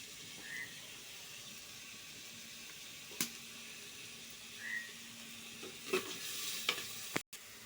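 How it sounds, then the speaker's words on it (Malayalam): Onions with salt sautéing in a pan, a faint steady sizzle with a few sharp clinks of the spoon against the pan, quiet and near. "ഉള്ളി ഒന്ന് വഴറ്റിയെടുക്കണം. പെട്ടെന്ന് വഴറ്റി കിട്ടാൻ ലേശം ഉപ്പിടും കേട്ടോ."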